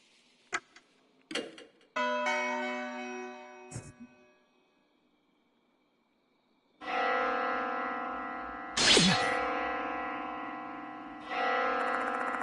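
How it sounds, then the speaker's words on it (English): Eerie echoing bell tones from the horror game Spirit Hunter: Death Mark II, a few short struck chimes followed by long ringing resonant tones with lingering decay, loud and alone. "The sound of the bell suddenly echoes in my mind."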